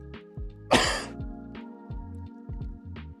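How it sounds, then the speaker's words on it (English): A single sharp, close cough bursts out once, followed by quieter throat sounds and breathing. "I have got a bit of a cough"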